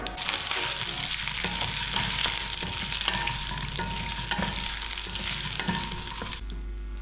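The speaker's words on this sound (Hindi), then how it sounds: "मैं इसमें मस्टर्ड सीड ऐड कर लूँगा, राई थोड़ा सा सिजल करने लगे" Mustard seeds, chana dal and urad dal sizzle in hot ghee in a pan for upma. The frying crackles steadily and close by, with occasional louder pops and a stir toward the end.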